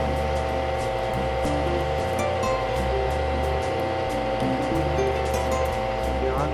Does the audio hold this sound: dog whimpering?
no